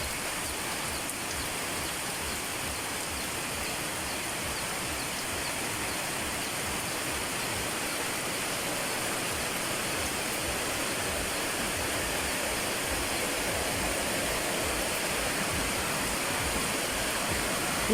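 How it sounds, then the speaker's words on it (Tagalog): Floodwater rushes loudly through a creek after heavy rain on a farm, a steady, broad roar of churning water that holds without pause, close and dense, with no voices. "Sobrang laki na ng tubig baha mga langga sa sapa. Ang lakas na ng bagbaha."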